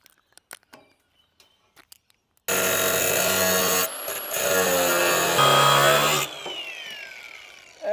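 A power tool cutting a piece of metal or timber starts abruptly after a few faint knocks, a loud sustained whining grind that shifts pitch midway and then winds down.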